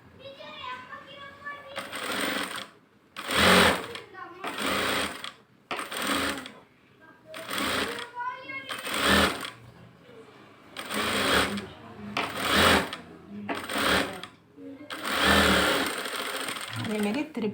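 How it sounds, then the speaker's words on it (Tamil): A sewing machine runs close and loud in repeated bursts, stitching a double seam on a blouse sleeve, with short pauses between runs while someone talks throughout. "அதுக்கு மேலே இன்னொரு தையல் போடுங்க, டபுள் தையல்"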